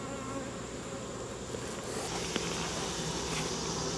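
Honeybees buzz in a dense, steady drone during a beehive inspection, close and continuous with no voices.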